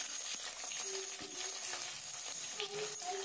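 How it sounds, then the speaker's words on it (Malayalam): Sliced onions sizzle in hot coconut oil for a Kerala sardine roast: a steady, moderately loud frying hiss runs throughout, with occasional soft stirring clicks and no talking. "ഇനി വെളിച്ചെണ്ണ നന്നായി ചൂടായി വരുമ്പോൾ നമ്മൾ അരിഞ്ഞു വെച്ചേക്കുന്ന സവാള ഇതിലോട്ട് ഇട്ട് കൊടുക്കാം."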